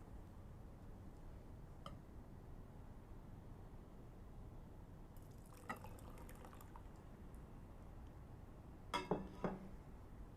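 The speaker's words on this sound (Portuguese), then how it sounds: "Agora que passaram 15 minutos, vamos de novo descartar esta água." Soaking water poured off dates in a kitchen, with soft trickles and a few brief glassy clinks and drips against a quiet background.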